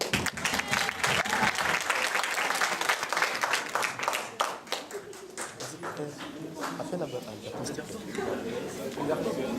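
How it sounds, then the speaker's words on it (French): An audience applauding parents at a French youth event, with dense, steady clapping throughout and scattered cheers and voices mixed in, the applause fading slightly toward the end. "un maximum d'applaudissements pour les parents"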